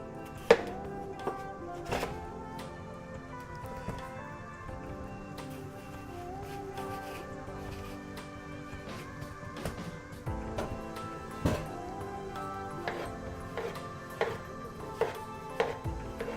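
A knife cuts raw fruit into thirds on a board in a home kitchen, with repeated crisp chopping taps spread irregularly over a steady low background.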